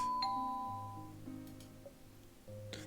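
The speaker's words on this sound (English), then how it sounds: "The sudden ring of your doorbell interrupts your thoughts." A home doorbell rings once late at night, a clear chime with sustained tones fading over a few seconds, followed by a second brighter ding near the end, with no voices.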